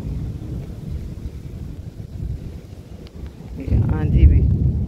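Heavy thunderstorm with strong wind and rain: a steady low rumbling roar of gusts that swells louder near the end, with a voice speaking over it.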